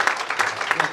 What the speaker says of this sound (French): veuillez applaudir très fort les vrais parents.